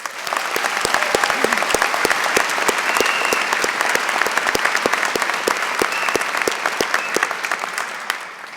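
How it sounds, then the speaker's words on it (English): A large audience at a law school commencement ceremony claps steadily and evenly for several seconds, a dense wash of hands with individual sharp claps popping out near the end. "let's give everyone listed in the bulletin a round of applause"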